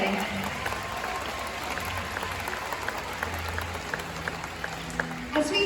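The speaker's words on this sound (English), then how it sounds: "let's give another round of applause for the whales and all of you today" Audience applause for killer whales at an Orca Encounter show at SeaWorld San Antonio, a steady wash of clapping from a large stadium crowd with music or announcer sound running underneath.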